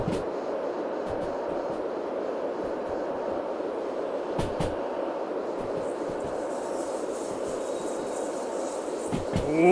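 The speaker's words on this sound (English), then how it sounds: "you can very clearly hear the noises when the train is not happy with what is happening" A train in the video game Derail Valley runs with a continuous rumbling drone, broken by a few sharp clanks and creaks, then a rising strained whine near the end.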